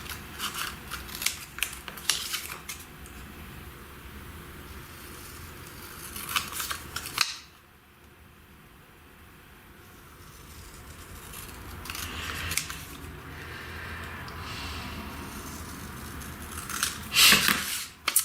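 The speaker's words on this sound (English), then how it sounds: "that's just a matter of quickly cutting it out" Scissors snipping through a paper piece meant for the front of a card envelope, close and crisp, in quick clusters of cuts with a short quiet gap midway and a louder burst near the end.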